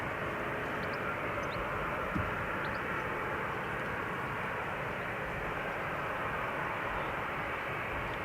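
A Sun Express Boeing 737-800, seven years old, lined up for departure at Amsterdam Schiphol Airport, its engines producing a steady, broad roar that holds level throughout, with no talking.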